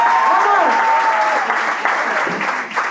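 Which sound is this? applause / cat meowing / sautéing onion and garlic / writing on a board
applause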